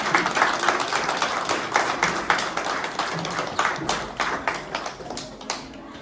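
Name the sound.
congregation applauding in church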